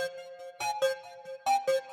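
A lead synth sample doubled with a copy pitched down one octave, giving a thicker hip-hop beat layer: sustained tonal notes with rhythmic bright stabs recurring in pairs, played alone without voices.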